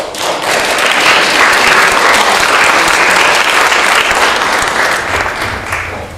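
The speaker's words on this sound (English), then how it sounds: "I just want to give you another applause." Loud, sustained applause from a large audience at a recognition event fills the room for about six seconds and tapers slightly at the close, with no speech over it.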